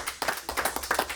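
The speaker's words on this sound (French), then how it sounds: "on peut l'applaudir bien fort" A brief burst of audience applause at a French television broadcast, a handful of quick close claps in a short ragged rhythm.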